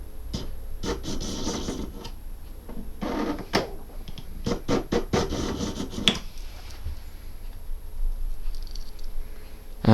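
Knife blade drawn through an AnySharp pull-through sharpener, a series of short close scraping rasps in uneven bursts, with quieter pauses between strokes.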